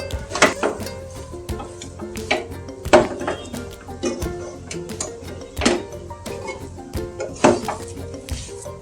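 Milk-powder filling for Gokul pithe stirred in a pan, with repeated close scrapes, knocks and clinks of a spatula against the metal.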